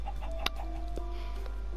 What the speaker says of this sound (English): Yeah, chicken.